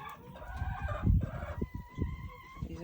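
Chickens in a Jamaican backyard cluck and crow close by, a rooster's call rising among scattered hen clucks and shuffling, with no talk.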